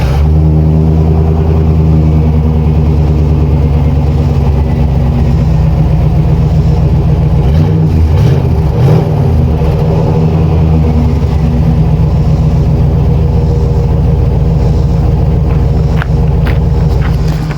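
The 350 Vortec V8 of a 1996 Chevrolet Cheyenne 2500 rumbles loud and close in a warm, not-cold start, then settles into a steady idle with a brief rise in revs midway.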